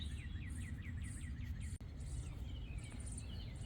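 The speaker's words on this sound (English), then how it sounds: "That chirping, that is that little sparrow nest. They're so loud. They have such a high pitch." Small birds chirping from a sparrow nest in a summer garden, repeated quick high squeaky calls in runs, steady and moderately close over a constant low outdoor rumble.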